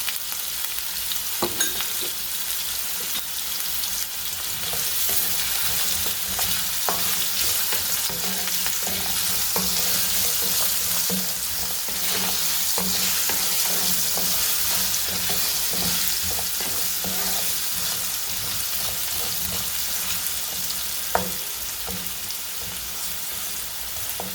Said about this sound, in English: Let's keep frying for about 4 to 5 minutes